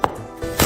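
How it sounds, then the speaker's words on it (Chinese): A kitchen knife chops ginger and garlic into fine mince on a cutting board, giving a few sharp, close knocks with a short pause between them. "再切点姜蒜末"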